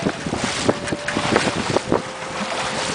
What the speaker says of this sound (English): A little bit of water breaking over the bow every now and then.